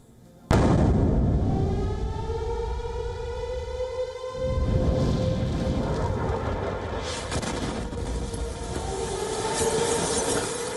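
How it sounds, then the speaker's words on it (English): Heavy bombing in the Ukrainian city of Kharkiv: a sudden loud blast opens, followed by a sustained rumbling roar with a steady drone and crackle, briefly dipping before surging again, with no talk. "The city is being bombed relentlessly"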